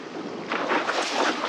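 Steady light wind blowing at a wingfoil spot on the water, a continuous broadband rush across a microphone that swells slightly louder partway through, with no voices.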